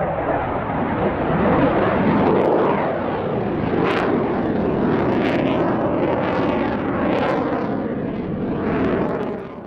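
A CF-18 Hornet fighter jet flying at a military air show produces a loud, sustained, tearing jet roar with crackling bursts and shifting pitch as it passes.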